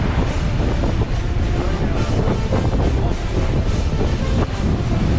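Strong wind of 30 knots buffets a sailing boat on the crossing from Syracuse to Crotone, a loud, constant rush of gusting wind on the microphone with waves and water noise beneath, no voices.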